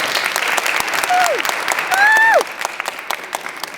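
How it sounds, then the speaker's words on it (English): A crowd at a community gathering applauds continuously, with a couple of whistles rising above the steady clapping partway through. "Please give Andy King a round of applause"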